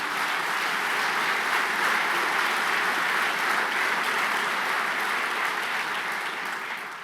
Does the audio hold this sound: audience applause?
yes